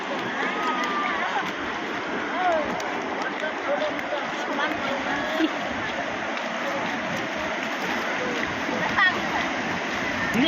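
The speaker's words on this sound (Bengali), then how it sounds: "এবার অনেকটা জল এলো" Sea waves washing up a sandy beach and splashing, a steady close rush of surf and churning water that fills the whole stretch without pause.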